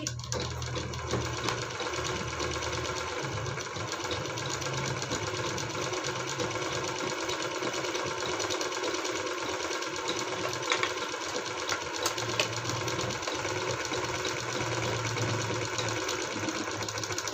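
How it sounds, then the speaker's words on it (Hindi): Sewing machine stitching fabric pieces together for a machine cover, a steady fast mechanical whir and rattle running continuously for about seventeen seconds, close and without talk. "ये और लगा देती हूँ सिलाई।"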